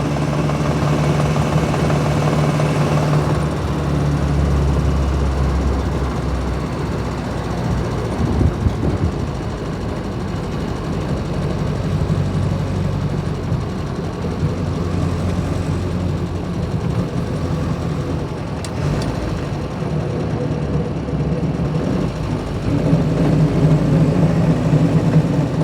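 A 1936 Austin 7 'Ruby' small-engine car runs continuously, a steady low rumbling drone that swells and eases with the revs as it drives along, fairly loud and alone without voices.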